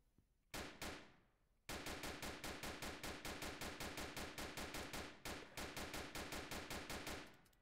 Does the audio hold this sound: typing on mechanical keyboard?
no